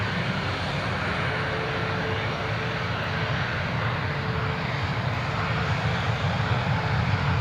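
A TUI passenger airplane at Newcastle International Airport, its engines producing a loud, sustained broadband roar with a deep rumble that stays steady and close throughout, no voices.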